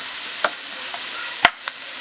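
Chopped tomato going into onions frying in a pan for meen polichathu, a Kerala fish dish: a low steady sizzle with a few sharp clinks of a spoon against the pan as the mix is stirred, alone without talk.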